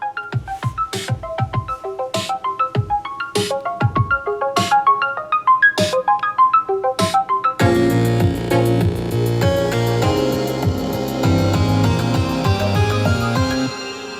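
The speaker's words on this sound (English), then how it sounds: "Now let's sample the upgraded 11-speaker Bose audio system." Music sample played through an upgraded 11-speaker Bose audio system in a 2018 Nissan Maxima, beginning with a plucked, bell-like melody that switches to fuller, louder music with drums, steady and without talking.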